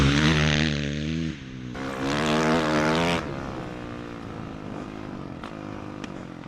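A Honda dirt bike engine, either a CR500 R or a CRF450 R, roars loudly on a track, revving high and steady, then dropping in pitch as the rider eases off and the engine slows the bike.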